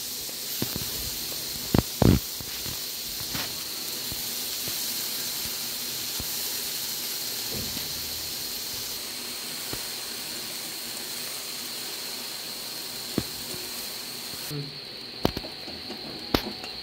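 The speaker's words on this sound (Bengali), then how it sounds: "কড়াইতে একটু তেল নিয়ে ফুলকপি গাজরগুলি ভালো করে ভেজে দেব।" Cauliflower and carrots fry in oil in a wok for fried rice, a steady close hiss and sizzle with a few sharp clicks, continuous throughout with no talk.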